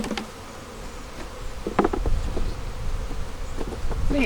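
Honey bees buzz around an opened hive during beekeeping work on post-harvest splits, a faint, steady droning hum close by with a few louder passes as individual bees fly near.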